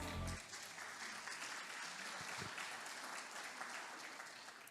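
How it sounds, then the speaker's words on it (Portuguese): Church congregation applauding during a Portuguese-language sermon, a steady, moderately distant clatter of many hands clapping that tapers slightly toward the end, with a brief low thump near the start. "Vamos aplaudir o Senhor por isso?"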